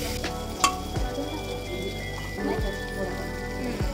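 Brinjal curry frying in oil in a cooker pot as water is poured in, giving a close, steady crackling sizzle with a few sharper pops, while a voice talks over it.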